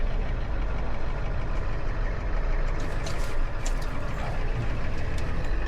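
A tow truck's heavy engine rumbles steadily and close up while it backs in, a continuous low drone with faint higher hiss and no voices.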